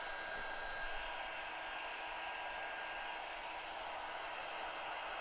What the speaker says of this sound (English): this is definitely not air temperature that I'm blow drying.